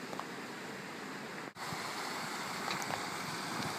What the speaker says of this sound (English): Plenty of water flowing through here.